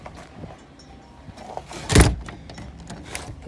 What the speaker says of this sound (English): So, let's open the door.